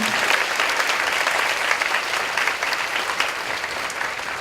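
A church congregation claps together in praise during a Sunday youth worship service, a dense, steady wash of applause from many hands filling the room throughout.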